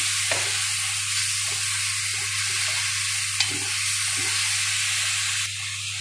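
Onion sautés in hot oil with a loud, continuous sizzle, broken by soft, regular knocks of a spoon stirring the pan; no one speaks.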